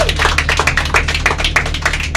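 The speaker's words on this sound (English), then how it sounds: "How about a nice round of applause for our pilot getting us back safely?" Passengers in a tourist submarine cabin off Hawaii give a brief round of applause. The claps are quick and close together over a steady low mechanical hum.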